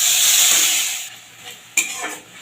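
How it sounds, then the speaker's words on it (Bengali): Ground onion paste frying in hot oil spiced with whole spices such as cinnamon, a loud steady sizzle at first that eases off, then a few sharp stirring scrapes of a utensil in the pan. "এবারে দিয়ে দিচ্ছি বেটে রাখা পেঁয়াজ"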